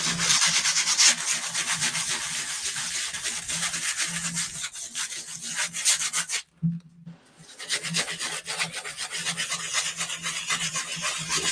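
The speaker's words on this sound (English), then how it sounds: "This is sandpaper." Sandpaper rubs steadily over a stenciled craft surface in a continuous close scratching, pausing briefly midway before the sanding strokes resume.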